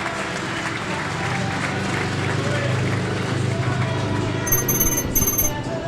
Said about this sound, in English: your race winner Louis Kerr comes round to the applause from the Pirates fans